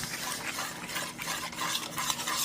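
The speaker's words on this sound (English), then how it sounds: "Mixing the sauce." BBQ jerk meatball sauce stirred in a pot, a close, continuous scraping swish of a utensil against the pot with a faint bubbling hiss underneath, no talking.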